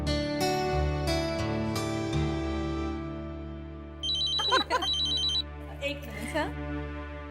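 A telephone rings with repeated bright electronic trilling bursts, heard indoors in a Hindi TV serial scene over a sustained musical background, close and clear.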